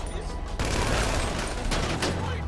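Continuous bursts of gunfire in GTA Online, loud and dense, with sustained rapid shots coming in two waves and no clear pause between them.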